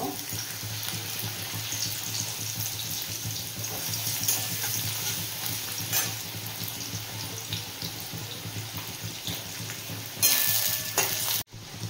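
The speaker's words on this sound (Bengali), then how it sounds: "তেলটা গরম হয়ে গেছে, প্রথমে গাজরটা ভেজে নেব" Carrots fry in hot oil with a steady, close sizzle and occasional stirring scrapes for most of the stretch, then a brief louder burst of hiss near the end before a sudden cutoff.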